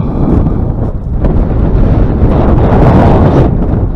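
Wind gusting hard over open water on a fishing outing, a loud, continuous low roar buffeting the microphone without a break.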